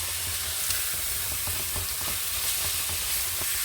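Minced meat with bay leaves sizzles loudly in a hot pan while being stirred, a constant close hiss of frying with soft scraping and bubbling throughout.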